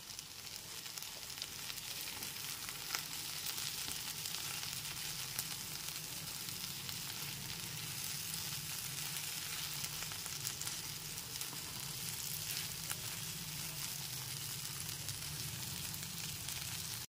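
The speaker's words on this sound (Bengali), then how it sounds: "এরপর আবার 3 থেকে 4 মিনিটের জন্য একটু নাড়াচাড়া করে নিলে পরে লতিটা খুব ভালো মতো রান্না হয়ে যাবে" Taro stolons (kochur loti) cooking in a pan on a medium gas flame give a constant soft sizzle with faint stirring, close and steady, with no talk.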